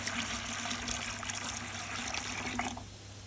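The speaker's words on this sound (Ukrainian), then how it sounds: "налів у горщик." Watered cymbidium orchid pot gives off a soft, continuous trickle and dribble of warm settled water running through it, close and fairly quiet, tapering off near the end.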